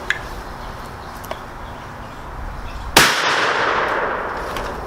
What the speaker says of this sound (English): First ever goo bullet shot versus 2x4.